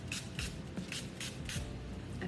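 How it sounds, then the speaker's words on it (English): Five short hissing bursts of a hydration mist sprayed onto skin, evenly spaced and close, with quiet pauses between each puff. "prep your skin first with a bit of the hydration spray"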